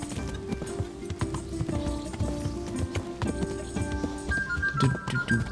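Horse hooves clip-clop in steady rhythm in Kingdom Come Deliverance as a rider travels, the clear, close footfalls playing over faint game ambience and music tones.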